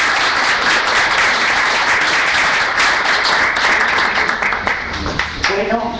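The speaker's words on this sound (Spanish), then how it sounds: "para los que les pido un aplauso" An audience bursts into sustained, loud clapping that holds steady and thins slightly near the end.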